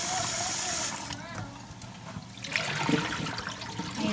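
Food is washed by hand in a bowl of water and rubbed between the fingers, making swishing, splashing sloshes close by with varying loudness and a short quieter pause in the middle.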